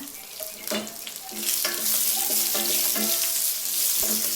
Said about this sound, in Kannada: ಇದೆಲ್ಲ ಫ್ರೈ ಆಗಲಿ.